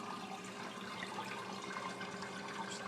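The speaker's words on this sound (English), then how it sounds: "That right there is the water feed coming through the bottom of the case" Water flows steadily through a PC water-cooling loop, fed through the bottom of a case into the pump, as a constant, fairly quiet watery rush with a faint hum and no talking.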